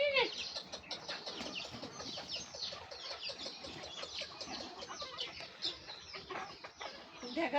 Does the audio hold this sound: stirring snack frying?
no